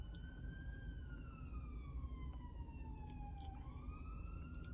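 An emergency vehicle siren passes on a motorway, its wailing tone sweeping slowly downward and then rising again over a steady background of traffic rumble, fairly distant.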